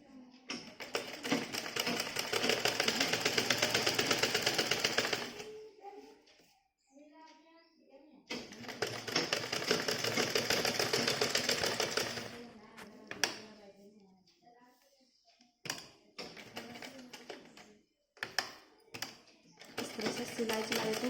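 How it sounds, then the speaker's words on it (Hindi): A sewing machine runs double stitching along a blouse seam in two long bursts, the second after a pause, with brief clattering taps and short stitching runs following, loud and near. "फिर डबल सिलाई चला देते हैं थोड़ी दूरी पर"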